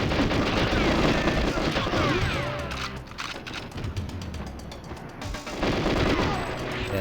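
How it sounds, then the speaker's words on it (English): Gunfire in the video game GoldenEye 007, with dense loud rattling shots in clustered volleys that ease off midway and swell again, alongside someone talking. "there's already guys shooting from behind, but I'm not gonna worry about them"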